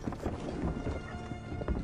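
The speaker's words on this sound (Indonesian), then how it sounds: "mengendarai kuda melewati hutan" Horses ridden through a forest in a martial arts film, a dense, continuous patter of hooves blended with a rumbling background, steady and fairly loud throughout.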